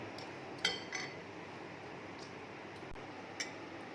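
Faint metal spoon clinks against a pot, three or four scattered taps over a low steady hiss, as mutton biryani stock with kewra water is stirred together.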